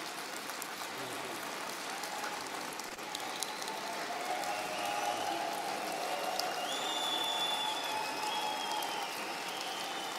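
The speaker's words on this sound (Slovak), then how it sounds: "Pre vás, ten potlesk je pre vás." An audience at an annual conference event in Oslo applauds in a steady, sustained wash of clapping for about ten seconds, with a few faint tonal sounds rising above it.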